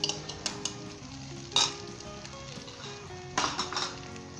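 Beaten eggs being stirred into a frying masala for Bihari egg, peas and carrot bhujia, with steady sizzling and clinking utensil scrapes, plus sharper bursts of crackle near the start and end.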